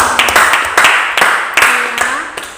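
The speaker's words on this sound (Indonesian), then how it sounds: "Oke, beri aplaus dulu." A school class gives a group's presentation a short round of applause, with sharp, evenly spaced claps in a steady rhythm, close and loud over a couple of seconds.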